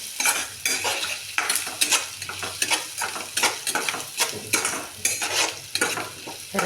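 Chopped tomato sautéed in a pan for a brinjal (eggplant) curry, with a steady close sizzle under repeated scraping and clinking stirs of a spoon against the pan, no voices.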